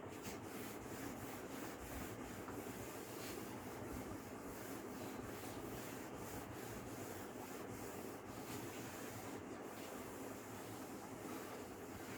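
Writing is rubbed off a board with quick, rhythmic strokes, a steady close scrubbing hiss throughout with no talking.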